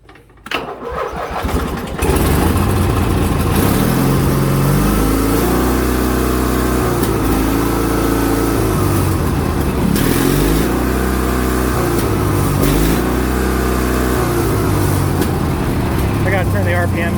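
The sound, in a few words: 1987 Craftsman GT18 riding lawn tractor engine running on test run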